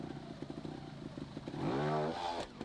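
Trial motorcycle engine idling with a light rumble, then a brief rev as the rider opens the throttle, rising and falling within about a second, fairly close.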